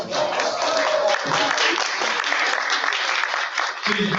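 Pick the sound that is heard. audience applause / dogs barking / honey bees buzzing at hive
audience applause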